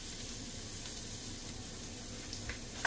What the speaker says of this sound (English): We have our onions sauteing.